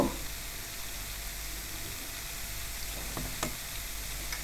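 Sitabhog sweets fry gently in oil over low heat, a steady soft sizzle running throughout with a few brief clicks near the end, close and moderately quiet.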